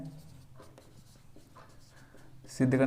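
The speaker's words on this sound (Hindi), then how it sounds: "तो हमें जो सिद्ध करना है वो लिख देते हैं" Soft scratching of pen or chalk strokes while a maths proof is written out, quiet and intermittent, ending in a louder, sharper scrape.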